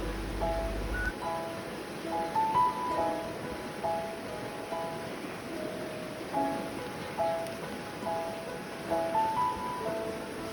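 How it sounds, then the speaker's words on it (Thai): A stream flows at the Huai Bong tent ground campsite in Tat Mok National Park, a steady close rush of water with light bird chirps over it. "เสียงน้ำไหล แค่นี้ก็มีความสุขแล้วครับ"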